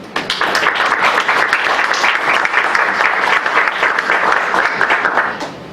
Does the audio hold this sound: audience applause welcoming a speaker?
yes